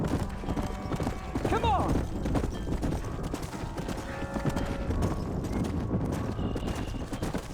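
Horses gallop with rapid clip-clop hoofbeats and a sharp neigh in Red Dead Redemption, with a voice shouting over the busy, continuous action.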